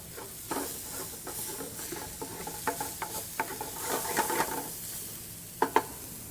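Garlic, onions and chopped Italian parsley fry as a sofrito base in a paella pan, giving a steady low sizzle with repeated scraping stir strokes, close and moderate in level, with no talking.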